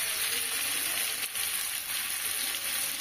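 Pumpkin pieces fry in hot oil in a pan for a shrimp and pumpkin dish, giving a loud, steady, close sizzle with a slight stir partway through and no talking.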